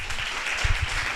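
Brief audience applause at a conference talk in Italy, a dense, steady patter of many hands clapping at moderate loudness.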